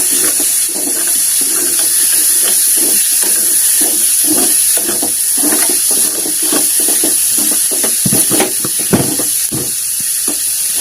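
Matki (moth bean) dal sautéing in hot oil for a village-style dry drumstick-leaf dish, giving a steady close sizzle with intermittent scraping stir strokes throughout.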